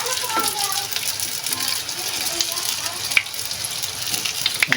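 Lumpia shanghai spring rolls crackling and sizzling steadily in hot frying oil at close range, a dense hiss with occasional sharper pops, while a person talks now and then over the cooking.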